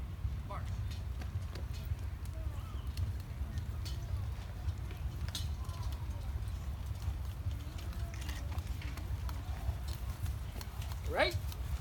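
A riderless horse at a ceremony, its hooves clip-clopping softly in a steady rhythm beneath a constant low rumble of crowd and outdoor ambience, with a brief sharper sound near the end.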